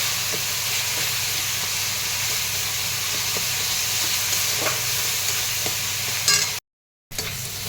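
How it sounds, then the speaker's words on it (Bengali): Spice paste with turmeric frying in a pan during cooking of a jackfruit-seed curry, a steady close sizzle and hiss with faint scraping stirs, running unbroken apart from a brief cut near the end. "এবার মশলাটাকে খুব ভালো করে একটু কষিয়ে নেবো"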